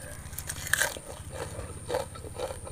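Close, crunchy chewing of a spicy Thai koi khom dish with bitter kadao leaves and sticky rice, with repeated crisp bites and munches in an uneven rhythm and no talk.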